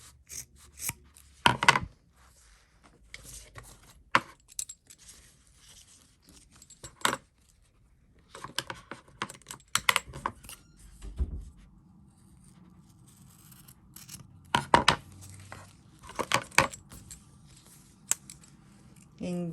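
Scissors snip through a folded crocheted dog sweater piece in a few separate bursts, close and fairly loud, with quiet handling rustle in between.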